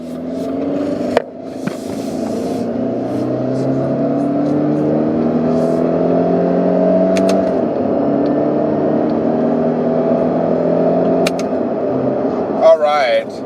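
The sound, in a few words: 2019 Subaru Impreza Hatchback accelerating on road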